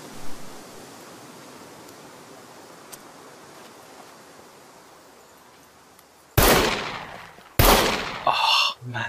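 Gunfire in the survival game SCUM: after a long stretch of quiet hiss, two loud sharp shots ring out close together near the end, each with a short decaying tail, followed by a brief noisy rustle.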